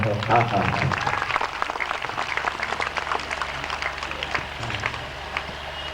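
An audience at an anniversary gathering claps in a steady patter of many hands, loud at first then thinning, while a voice speaks over it.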